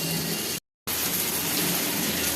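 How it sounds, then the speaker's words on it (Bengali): Chopped tomatoes frying in a pan for paneer bhurji, giving a steady dense sizzle with a brief total dropout early on, otherwise constant and close with no talk. "এবারে টমেটোটা আমি একটু ভালো করে ভেজে নেবো"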